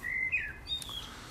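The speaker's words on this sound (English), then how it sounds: "it's lovely and quiet, and you hear the birds more than anything else" Birds chirp and tweet in a quiet residential garden in Reading, a few short, clear calls close by over a soft, steady background hush with no talking.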